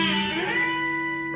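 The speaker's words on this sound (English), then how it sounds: "dip it down a little on your bender and then re-engage by you get there" A B-bender electric guitar rings out sustained chiming notes, with the bender dipped and re-engaged mid-slide so the pitch bends audibly before the chord settles and fades, played alone without talk.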